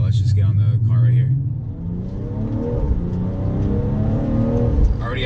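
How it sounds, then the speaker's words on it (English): A 2018 BMW M240i fitted with an M Performance exhaust accelerates from inside the cabin, a loud, deep engine rumble that climbs in pitch through the gears while someone talks over it. "this car sounds amazing out of factory with the M Performance exhaust on it"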